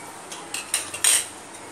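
Whole coriander seeds and cumin dropped into a hot pan, with a spoon clinking against the metal: a few light scattered taps building to a brighter rattle, close and quiet.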